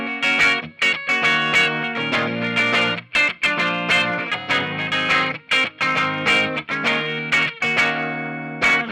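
A 2021 Gold Sparkle Silverburst Gibson Les Paul electric guitar on its bridge pickup plays loud, bright strummed chords and note runs in a steady rhythm with brief pauses and no voices.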